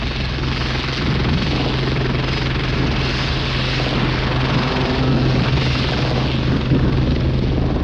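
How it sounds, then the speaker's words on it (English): Westland 30 helicopters flying in, a continuous dense rotor and engine roar that holds steady and loud throughout with no pauses. "the second wave of Westland 30 helicopters can fly in to add more firepower in support of the assault"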